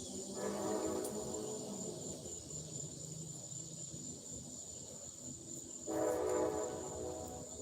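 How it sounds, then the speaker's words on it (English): A passing train sounds its horn in two long blasts separated by a rumbling stretch of railcars, while crickets chirp steadily in the background. "There's another train."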